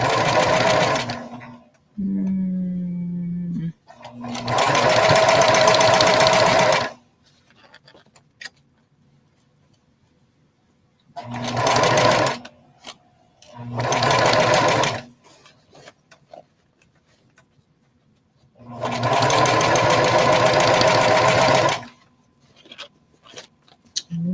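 A sewing machine stitches over a pin while decorating a bucket hat, running in four or five loud bursts of rapid stitching separated by quiet pauses and small handling clicks.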